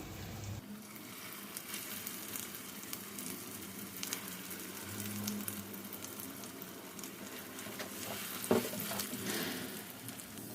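Coriander chutney frying in a pan with a tempering, giving a steady low-level sizzle and crackle that runs throughout, with a couple of brief stirring clinks near the end.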